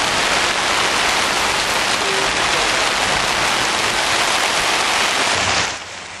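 Heavy rain pours down at the Oschersleben motorcycle race track in Germany, a loud, dense, continuous hiss that eases abruptly near the end.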